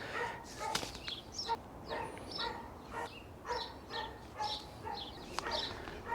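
A dog barks repeatedly at a distance outdoors on an allotment garden, the short yelps recurring at fairly even intervals through the whole stretch, with bird calls mixed in and no talking.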